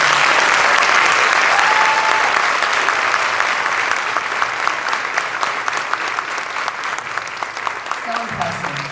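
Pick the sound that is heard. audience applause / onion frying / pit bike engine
audience applause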